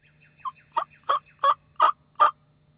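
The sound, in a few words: wild turkey gobbling during a turkey hunt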